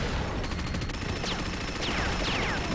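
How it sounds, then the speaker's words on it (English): Dense, continuous minigun fire in an arena shooter duel, a rapid unbroken rattle that fills the clip, with whooshing projectile sweeps cutting through the barrage. "Going real aggressive with the minigun against the flat cannon"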